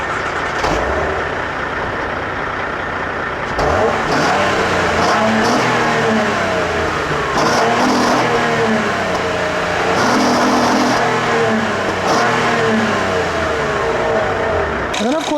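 The 3.5-liter V6 engine of a 2014 Acura TL, a loud continuous engine drone with shifting harmonic tones as it revs and settles, close and steady throughout with no other sounds on top.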